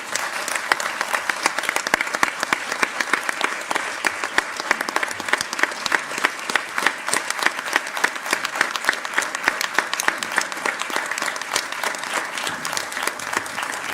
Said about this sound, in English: May we please have a round of applause for